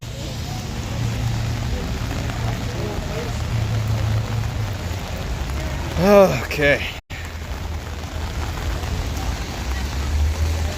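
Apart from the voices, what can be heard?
rain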